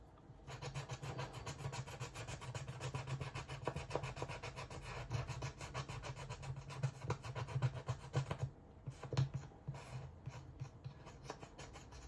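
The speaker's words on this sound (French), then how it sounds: "Ouais, on va déjà gratter." Someone scratches a scratch-off card, a continuous close rasping and rubbing, scraped in quick repeated strokes for several seconds with a few short pauses near the end.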